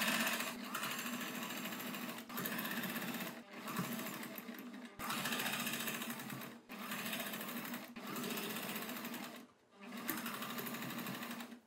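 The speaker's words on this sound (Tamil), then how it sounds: "அடுத்தது நம்ம டே ஸ்டிச் பண்ணிக்கலாம்." A sewing machine stitches fabric for a churidar neck in steady, buzzing runs of several seconds each, separated by short pauses, running close and alone.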